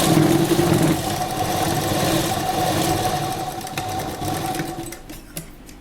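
A sewing machine stitches around a corner of a kurta and its lining fabric, running with a steady mechanical whir up close before slowing and stopping near the end, with no talking.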